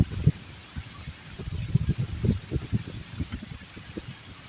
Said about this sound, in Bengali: অনেক জোরে জোরে বৃষ্টি পড়তেছে